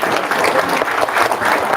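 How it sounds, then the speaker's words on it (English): An audience in a seminar hall at IIT Delhi gives a loud, dense round of applause for the Bansal family, a steady wash of many hands clapping close by throughout. "a huge round of applause for the Bansal family"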